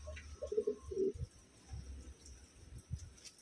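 Pigeons coo softly a few times early on, low throaty calls, then fainter rustling and soft bird sounds follow against a quiet background.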